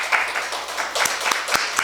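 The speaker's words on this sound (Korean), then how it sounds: "잠깐만 일어서면 박수로 환영하겠습니다" A church congregation at a Sunday service claps to welcome a new member, a short stretch of brisk, moderately loud applause with a few sharper claps toward the end.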